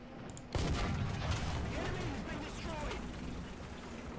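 A tank cannon fires in the War Thunder game, a sudden loud boom followed by a long rumbling decay, with a voice talking over it.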